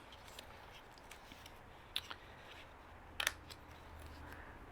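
Scissors snipping small pieces off paper, a few quiet close crisp cuts in a near-silent room, with a brief pair of snips near the end, no talking.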